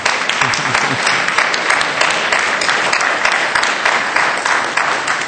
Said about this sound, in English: So, kids, we want to give them a round of applause.